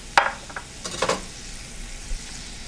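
Steaks sizzle in a pan of thickened pepper sauce for steak au poivre, with a sharp clatter as the meat goes in, then a soft steady hiss and a few utensil knocks.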